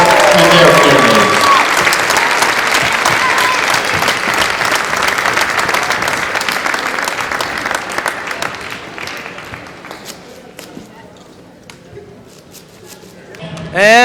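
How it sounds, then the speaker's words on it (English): Gymnasium crowd at a high school boys basketball senior night applauds senior cheerleaders, players and their families, loud dense clapping with cheers that fades toward the end, with a voice and sneaker squeaks briefly audible. "one more round of applause for the senior cheerleaders, their families, and the senior basketball players and their families"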